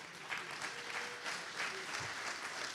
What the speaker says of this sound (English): you're not clapping for me. You're clapping for what God's done with me